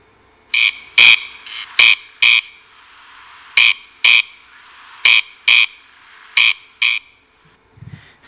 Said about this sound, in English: So that is the call of the corncrake